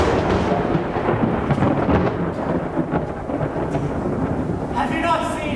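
A thunderstorm sound effect backs a reading of a Poe tale, with heavy steady rain and deep rolling thunder throughout, loud and enveloping, and a faint voice emerging near the end.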